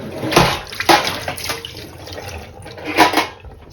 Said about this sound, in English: Just wash this through with some cold tap water.